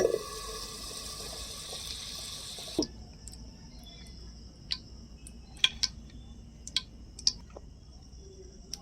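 Butter dropped into a hot pan, a soft hiss that cuts off suddenly, followed by quiet scattered ticks and pops of melting butter close by.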